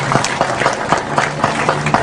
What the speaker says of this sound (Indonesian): Tepuk tangan untuk Ibnu